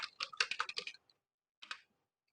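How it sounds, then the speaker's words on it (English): Fast typing on a computer keyboard while a password is entered, a quick burst of clicky keystrokes followed by a pause and a final couple of key presses, close and fairly quiet with no voices. "enter your OEM default super user account password and click authenticate"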